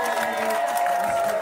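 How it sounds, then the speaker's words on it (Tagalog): Supporters clapping and shouting at the proclamation of a mayor-elect in Laoag City, a dense, steady crowd roar with applause, brief and fairly loud. "Palakpakan at sigawan ng supporters ni James Bryan Alcide sa proclamation niya bilang mayor-elect ng Lawag City"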